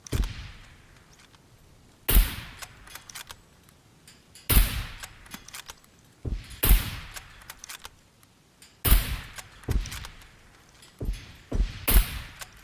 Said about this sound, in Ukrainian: всі троєм стріляємо